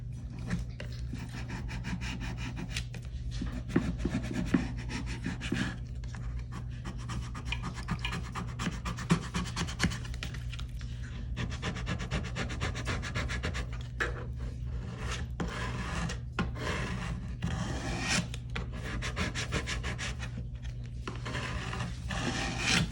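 Transfer tape is rubbed firmly over vinyl letters on a board, giving a steady run of close, dry scraping and rasping strokes that continue without pause and with no talk.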